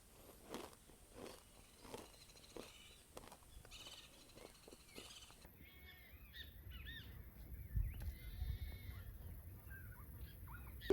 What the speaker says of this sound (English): The goats are calling.